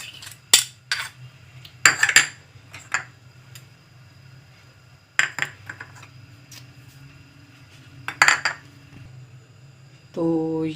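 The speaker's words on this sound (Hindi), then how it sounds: "ये सारी चीज़ें हम दही में मिक्स करेंगे" A metal spoon stirs ground red chilli and other spices into yogurt in a bowl, giving intermittent clinking and scraping bursts against a steady low hum, with a brief clatter at the end.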